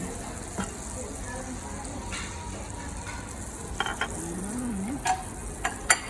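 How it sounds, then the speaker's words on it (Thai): A steady background hiss of dry sukiyaki sizzling and frying, with occasional clanks of utensils and faint voices in a busy room. "ที่ได้ยินเสียงซ่าเมื่อกี้นะคะ เป็นสุกี้แห้งนะ"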